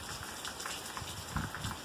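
Rain falls during the first rains of the season in a rural area, making a faint, steady hiss with scattered soft drop taps throughout.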